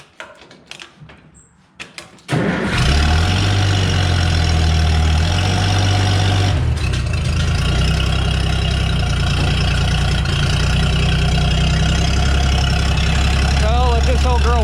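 An old engine turns over and settles into a loud, steady idle as it warms up, with a deep, even rumble after a few seconds of quieter clatter at the start.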